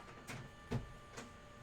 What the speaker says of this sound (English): don't mind that sound. That's my printer in the background.